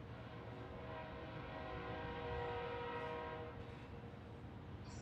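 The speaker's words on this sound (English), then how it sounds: "Now this train that we're seeing here is going to make a reappearance." A train at the Saginaw, Texas depot, its horn sounding as a steady, sustained tone over a low rumble of rolling cars, loud and unbroken throughout.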